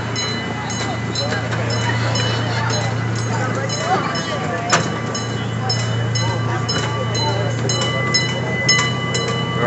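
A steady low rumble of a slow-moving amusement park train at Six Flags Great Escape in Queensbury, New York fills the clip, with occasional clacks and rattles and crowd chatter mixed in.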